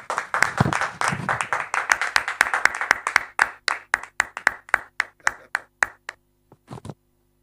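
Applause in a church gathering starts as dense clapping from several people, then thins to a slower, regular run of single claps that spread apart and stop near the end.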